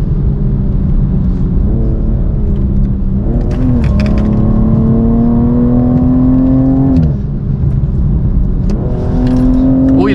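Rally race car engine accelerating hard during the Vuelta a Oriente, loud and close from inside the cabin, revs climbing in long sweeps with gear shifts around four and seven seconds, then building again; no talk.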